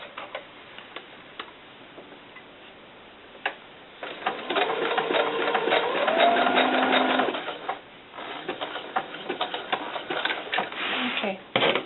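A sewing machine stitches fabric for a doll cover-up in bursts, its rapid mechanical ticking rising for a few seconds, pausing, then resuming, with a person talking quietly around it.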